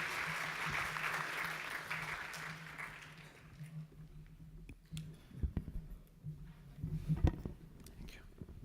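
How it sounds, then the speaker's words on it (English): Applause from a forum audience welcoming a panel at an energy week event in Singapore, a broad wash of many hands that fades after about three seconds into quieter room noise and scattered knocks. "Let's start by welcoming the entire panel with a big round of applause"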